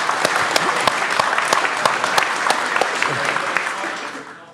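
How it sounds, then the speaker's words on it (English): A live show audience applauds, with crisp, close individual claps standing out over the dense crowd clapping before it fades near the end. "Give this person a round of applause."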